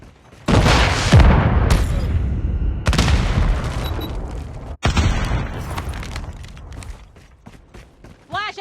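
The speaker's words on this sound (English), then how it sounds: "Watch out! Flashbang!" A flashbang grenade goes off in a military shooter game, a loud sharp blast followed by ringing and more booming bursts of gunfire and explosions over several seconds.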